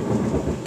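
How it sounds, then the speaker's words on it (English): Thunder from a summer thunderstorm gives a loud, deep, rolling rumble with rain in the background, and no one speaks. "There's nothing like a summer storm."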